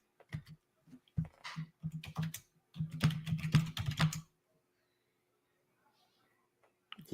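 Computer keyboard typing in bursts of quick clicks with short pauses between, close and fairly soft, ending in near silence.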